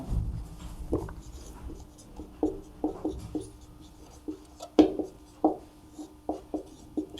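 Math formulas being written by hand, with soft, close scratchy pen or chalk strokes coming in short irregular taps and scrapes over a quiet background.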